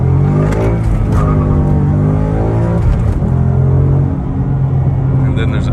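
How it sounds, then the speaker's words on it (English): A 2015 Mustang GT with a Borla resonator exhaust accelerates hard, its engine note rising through the gear with a steady loud drone, then easing off near the end, heard from inside the car. "You hear a lot of engine noise because the exhaust is so quiet."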